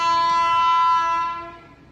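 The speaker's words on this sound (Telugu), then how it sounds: "ట్రైన్ వచ్చేస్తుంది. వ్యాప్ 7 లోకోమోటివ్తో వస్తుంది ట్రైను." A WAP-7 electric locomotive hauling the Konark Express into the two-platform Bhimavaram station sounds a loud, sustained horn that holds steady for over a second and then fades away.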